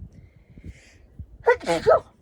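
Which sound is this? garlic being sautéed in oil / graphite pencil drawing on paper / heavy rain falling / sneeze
sneeze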